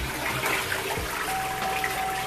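Toilet flushing in Japan, with a rushing swirl of water and a steady hiss of refilling, close and continuous for the whole stretch.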